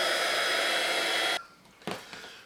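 A HIPPIE Crafters heat gun blows loudly with a steady, broad rushing whoosh, then cuts off abruptly, leaving quiet room sound with a few faint handling bumps.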